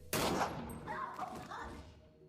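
Gunfire in a film scene where a man is shot dead: a sudden loud burst followed by a rattling, echoing tail lasting about two seconds, with no speech over it.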